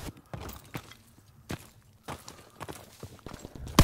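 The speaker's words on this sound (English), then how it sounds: "I hear his footsteps." An enemy player's footsteps in a WWII shooter video game, a series of sharp, separate thuds spaced unevenly over a quiet background, ending in a louder burst of noise.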